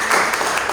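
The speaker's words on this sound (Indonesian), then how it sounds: "Wow, tepuk tangan dong" Brief burst of classroom applause, a short dense patter of hands clapping at close range.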